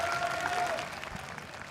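Hometown crowd at VALORANT Champions Seoul applauding steadily, a broad sustained wash of clapping and cheering heard from the arena, with a commentator's voice faintly underneath.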